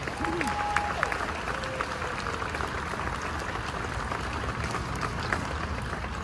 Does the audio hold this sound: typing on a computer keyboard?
no